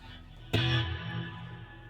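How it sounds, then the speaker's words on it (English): A single electric guitar chord played through a Vox DA5 with rotary reverb, lined out into a small Behringer Firebird bass amp, strikes sharply and rings out with a swirling, distorted decay, close and alone. "I was playing through the Vox DA5 with a rotary reverb, and that is lined out into a little Behringer Firebird bass amp."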